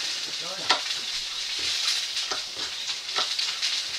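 Fish frying on a hot plate gives a steady, close sizzle with a few sharp crackles and pops scattered through it, and no talking.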